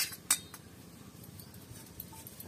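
Light metallic clinks and scraping on a plate being greased with white oil for dhokla, one sharp clink early and then soft, quiet rubbing and tapping sounds.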